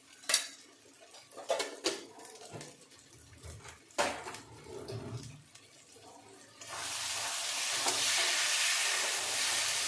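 Chicken do pyaza masala is stirred in a pan, with a spoon scraping and clinking against the metal several times, then a steady sizzle of frying rises and holds for the last few seconds.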